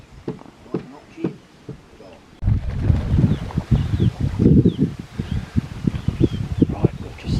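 Wind buffets a microphone outdoors on an overcast hillside during a deer hunt, gusty rumbling roar rising abruptly partway through over earlier rustling and knocks, with a voice talking briefly underneath.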